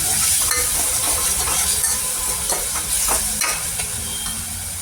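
Green chillies are stirred in a hot pan for spinach bhaji, a steady close sizzle with a spatula scraping and tapping at irregular moments and no one talking.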